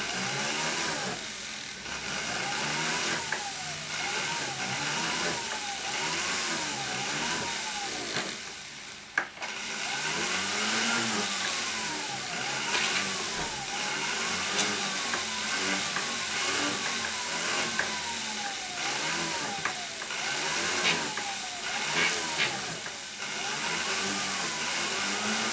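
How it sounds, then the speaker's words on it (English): A pendant motor spins a bristle brush against the inside of a wedding ring during jewellery repair. The close, continuous scrubbing whir has a rising-and-falling rhythmic pulse throughout, with no talk. "we can now use our pendant motor with a bristle brush attached, and we can use that now just to clean the"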